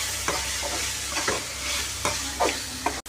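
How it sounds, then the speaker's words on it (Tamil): Soybean chunks and softened tomato stir-fried in a pan, a low continuous sizzle with several distinct scrapes and stirs of a spoon at irregular intervals, close and alone. "தக்காளி நல்லா வதங்கினதும் சோயாபீன் எடுத்து போட்டுக்கலாம். நல்லா கலந்து விடணும்."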